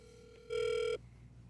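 An outgoing phone call rings back to a seller: a single electronic ring tone sounds for about half a second between quieter stretches, clear and close.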